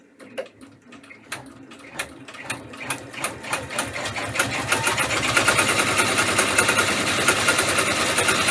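A multi-needle embroidery machine stitches with a fast mechanical ticking that starts as spaced clicks, then speeds into a steady, dense whirring rattle, close and clear with no talking over it.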